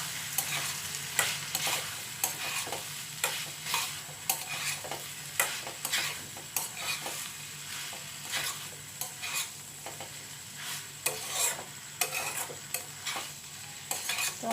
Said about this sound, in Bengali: একটু টমেটোর সস দিয়ে দিলাম, দিয়ে ভালো করে মিশিয়ে নেবো একটু